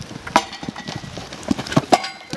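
Hooves of a horse in show jumping training clip-clop in an uneven, quick rhythm close by, with soft thuds and rustle between the strikes and no talk.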